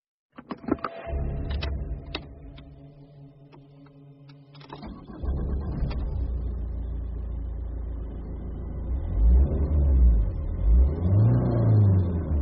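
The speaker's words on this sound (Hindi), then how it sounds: "मैं गाड़ी बैक करता हूं।" A car revs as it reverses on a jungle road. A few sharp knocks and clunks come first, then a low engine drone builds and rises in pitch, fairly loud and close, with no one talking.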